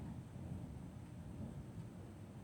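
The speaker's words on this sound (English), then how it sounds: "Hear that? It's lightning or thunder." Distant thunder in the mountains rumbles low and steady for a couple of seconds, a continuous muffled roll with no voices over it.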